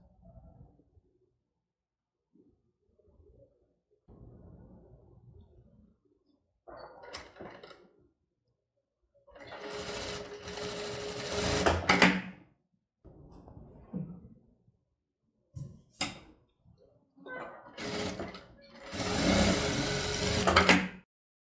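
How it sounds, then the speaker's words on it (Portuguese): A sewing machine stitches a seam right at the corner beside the zipper of a flared godet skirt, running in several loud bursts of whirring with quiet pauses and softer handling noises between. "Primeiro, ele fez uma costura bem no cantinho, de um lado do zíper"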